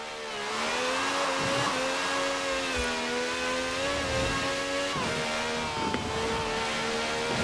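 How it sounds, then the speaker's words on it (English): A car in Forza Horizon 4 doing a rolling burnout, its engine held at a steady high rev for the whole stretch, loud and continuous with a few brief dips and wavers in pitch. "A good old-fashioned rolling burnout."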